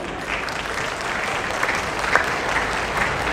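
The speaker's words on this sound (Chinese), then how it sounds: "来，我们也起来，让我们掌声一下哈。" Steady, dense applause from an audience at the opening ceremony of a school sports day at Chung Cheng Industrial Vocational High School, a continuous wash of clapping that holds for several seconds with no voices standing out.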